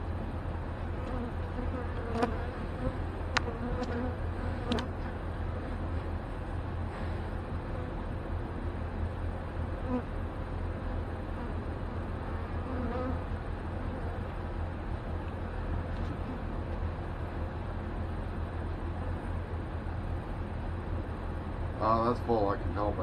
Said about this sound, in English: Oh, there's a lot of bees in here.